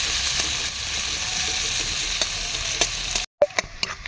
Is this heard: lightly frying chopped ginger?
yes